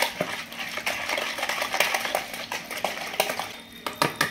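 A spoon stirring oil, condensed milk and milk together in a bowl, giving a series of quiet clinks and scrapes in an uneven rhythm, close and without speech.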